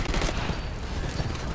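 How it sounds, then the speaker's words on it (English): An auto pistol fires in the PC beta of the Titanfall video game, producing dense, rapid bursts of loud gunfire that run continuously with no pause. "The auto pistol's pretty awesome."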